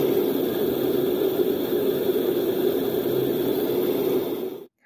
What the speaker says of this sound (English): So I'm going to put it on the white noise and have a listen.